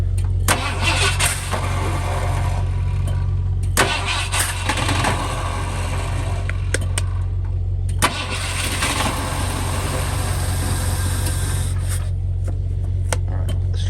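An old 1978 Ford F150 that has sat unused for years cranks repeatedly, trying to start, with long grinding starter bursts under a constant low drone, loud and close, separated by short pauses.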